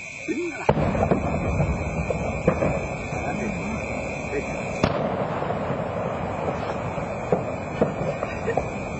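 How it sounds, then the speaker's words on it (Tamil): Gunfire and explosions during an attack on an airbase in Anuradhapura, Sri Lanka, heard as distant booms and sharp cracks scattered across a steady background roar, with a constant tonal whine throughout. "இப்ப ஃபயரிங் சத்தம் வந்து தூரத்துல அவங்கட சத்தம் கேக்குது"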